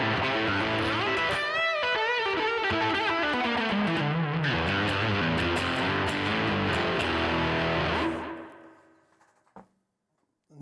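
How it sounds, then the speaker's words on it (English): A 1964 Telecaster played through a Rat-style distortion on a Line 6 Pod Express, loud and gritty, rolls through sustained distorted chords and lines before cutting off abruptly, followed by a couple of faint clicks. "Distortion, I think it's a Rat"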